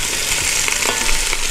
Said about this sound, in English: Now to this, we're going to add some chopped onion.